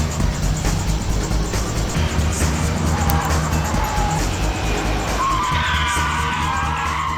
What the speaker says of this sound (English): The BMW Z4, put through its paces by a professional driver on a closed course.